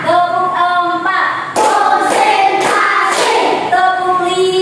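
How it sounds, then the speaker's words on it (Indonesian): Hands clap out a rhythmic ice-breaker pattern in a classroom: a short burst of several sharp, distinct claps in the middle, set against a steady tonal voice or music that continues before and after. "Tepuk 4."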